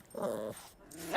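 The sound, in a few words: dog growling while eating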